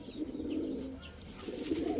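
A double crested chila pigeon coos close by in two drawn-out, throaty rolls separated by a short pause, no speech.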